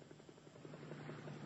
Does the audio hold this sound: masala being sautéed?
no